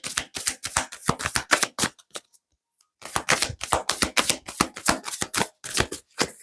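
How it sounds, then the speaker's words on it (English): Tarot cards are shuffled in rapid riffling flutters and dense slaps, a busy run that stops for about a second of silence and then starts again, close and crisp with no voices. "Last shuffle for Gemini."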